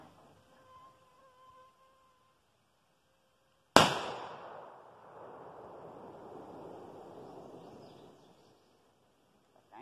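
A single sharp rifle shot, from a .243 or .308, fired at an old lawn mower motor outdoors, cracks loudly once and then rolls away in a long fading echo, with no talking.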